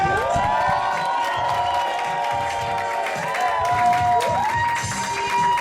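A stand-up comedy student showcase audience cheers and applauds for a comedian, steady crowd noise with whoops and a music sting playing over it, no clear talk.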